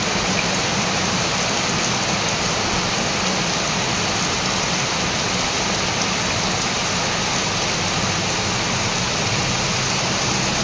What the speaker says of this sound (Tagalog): Lalong lumakas yung ulan